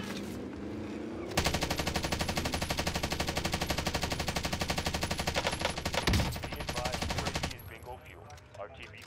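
Stoner LMG fire in Warzone, a long sustained burst of rapid, loud automatic shots with a tight steady rhythm lasting about six seconds, then tailing into quieter game sounds.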